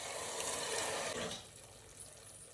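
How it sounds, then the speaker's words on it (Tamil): Water poured into a pressure cooker holding moong dal for tiffin sambar, a brief close splashing pour that fades after about a second. "இந்த பயத்தம்பருப்பு இந்த ஜலத்தையும் நான் இதில் ஊற்றிக்கிறேன்"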